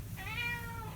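A house cat lets out a single clear, drawn-out meow close by, carrying a toy it has just caught.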